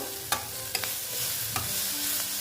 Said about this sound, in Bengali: দেখো একটু কষিয়ে নিচ্ছি